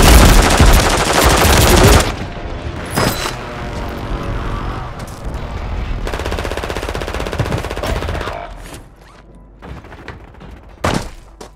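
Loud machine gun fire in Call of Duty Warzone, a dense opening burst followed by further sustained sustained volleys and scattered booms, continuous and close throughout.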